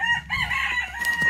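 Chickens in a big metal tub on a porch, with clucking and cheeping calls in a steady run of overlapping voices across the short moment, fairly close and clear with no talk.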